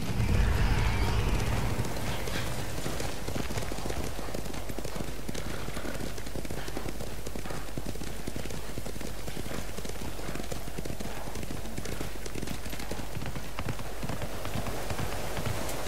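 Horses gallop steadily in the samurai game Ghost of Tsushima, dense rapid hoofbeats running continuously and fairly close after a brief louder opening.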